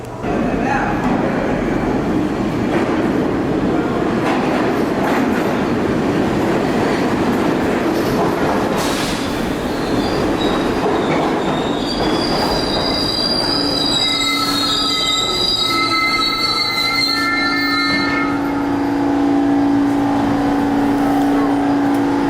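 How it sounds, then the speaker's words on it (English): A New York subway train pulls in, its wheels screeching loudly on the rails with sustained high metallic squeals that rise and layer toward the end over a constant heavy rumble. "So we're now waiting for the train man to turn up."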